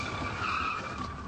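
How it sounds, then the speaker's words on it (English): A car's fender rubbing against its tire while driving down a highway near a border checkpoint, a sustained scraping squeal held steady at close range for the whole moment, with no voices. "Fender rubbing on the tire"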